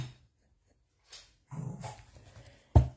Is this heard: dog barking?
yes